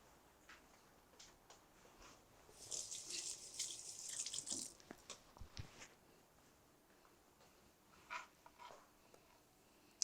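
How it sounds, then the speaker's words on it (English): Kitchen tap water runs briefly over onions being washed, a short steady gush followed by scattered drips, light knocks and clinks at a moderate distance, with no talking. "I just wash my onions."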